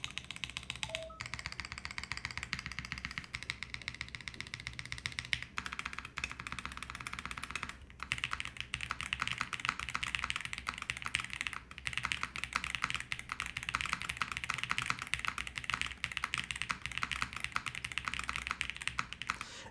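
Typing on a stock mechanical keyboard with tuned stabilizers: a quick, continuous run of crisp keystrokes with a few deeper thocks of the larger keys, close up and with no talking.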